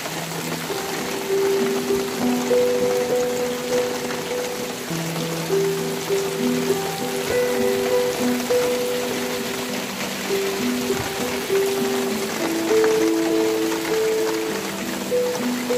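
Heavy rain falls in Namangan with water running and flowing over the ground, a dense, continuous wash of rain and stream noise that holds steady throughout with no speech.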